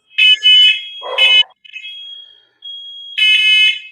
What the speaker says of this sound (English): That's the apartment fire alarm going off.